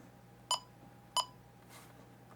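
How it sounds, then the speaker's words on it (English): Three short electronic beeps from a Radionics alarm panel keypad ring out at roughly even intervals, sharp and clear against a quiet room hum, with a faint soft blip between them. "Oh, this one's got a nice beep to it."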